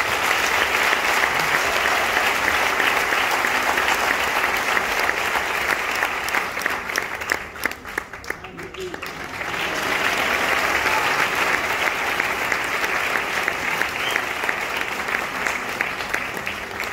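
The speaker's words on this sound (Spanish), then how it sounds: "Un aplauso a la Big Band y a su líder." Loud, sustained applause from a large audience for the Big Band de Alcalá and its leader, briefly easing in the middle before swelling again.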